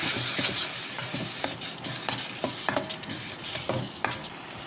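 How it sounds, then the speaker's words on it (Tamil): A spoon stirs chicken kurma masala with turmeric in a pot, repeated scraping knocks against the metal over a soft sizzle, close and fairly quiet, no talking. "சேர்த்துக்கிட்டு நல்லா கிண்டுங்க."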